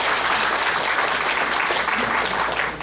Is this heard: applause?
yes